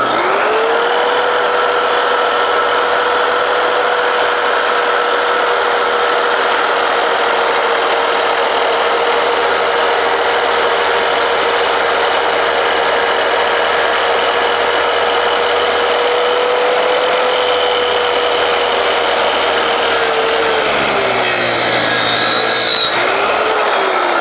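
A 7-1/4 inch circular saw cuts through wood with a loud, close, sustained high whine that holds steady for about twenty seconds, then drops in pitch as the blade winds down.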